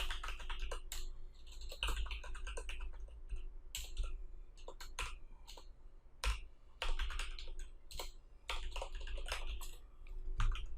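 Rapid typing on a computer keyboard while writing HTML code, with dense irregular key clicks and a few louder clacks running steadily and close up, no voices over it.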